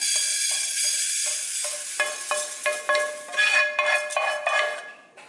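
Dry roasted moong dal is tipped from a pan into a pressure cooker, a close scraping and rattling pour with a few sharp metallic knocks against the vessel.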